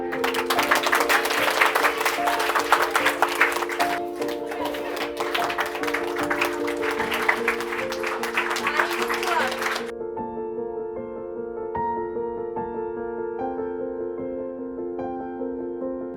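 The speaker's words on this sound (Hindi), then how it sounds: "आप तमाम लोगों ने तालियां बजाकर हमारी हौसला अफजाई की" Crowd applause at the inauguration of a community education centre, a dense wash of clapping lasting about ten seconds before stopping abruptly, with music or sustained tones continuing underneath and afterward.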